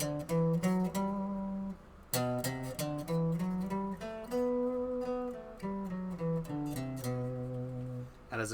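Phrygian mode scale played on a plucked stringed instrument, a run of clear separate notes in steady succession, close and moderately quiet, with no talking over it.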